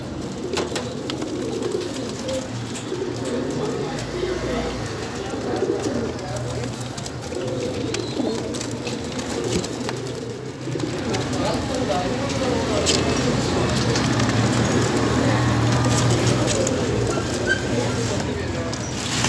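Pigeons coo repeatedly in a steady, continuous chorus, with flock noise and a faint voice talking in the background.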